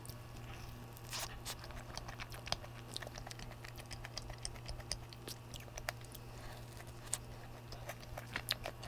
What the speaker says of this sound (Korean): 이거 바삭바삭 식감도 너무 좋거든요.